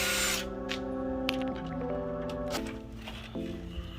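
A power drill backs out Phillips screws from the lower lights of a 1999 Chevy Tahoe grille, its motor whining in a steady tone that steps up and down in pitch several times, close and clear.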